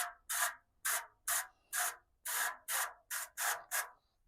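A series of short, hissing bursts of olive oil cooking spray onto the bottom of a pan, about ten in an irregular rhythm, close and fairly loud, with quiet gaps between them.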